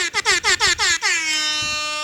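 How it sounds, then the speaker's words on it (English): Loud air horn blasts, about five quick stuttering honks followed by one long sustained blare. "Yeah, Air Horn Central"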